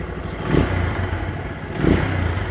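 A Keeway motorcycle, about 150 cc and carbureted, idles with a low steady engine rumble and two brief throttle blips, each swelling for about half a second before settling back down.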